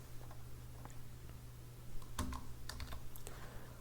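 Typing on a computer keyboard while entering text in Adobe Illustrator with the type tool: a quiet run of soft, irregular key clicks with a few sharper taps near the end, heard alone over a low steady hum.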